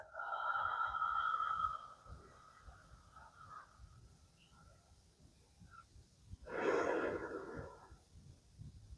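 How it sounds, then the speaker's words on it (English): During yoga breathing a person breathes out through the mouth in a soft, breathy rush, and a longer, louder exhale follows after a quiet stretch, with faint tonal sounds early on and no speech. "exhale through the mouth"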